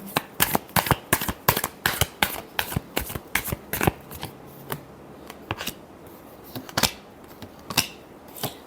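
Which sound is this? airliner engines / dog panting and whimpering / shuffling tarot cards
shuffling tarot cards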